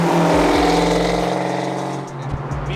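A 1988 Ford Mustang 5.0 convertible's engine revs hard up toward about 5,800 RPM, a loud, close, rising roar that drops and settles into a burbling idle, with no talking.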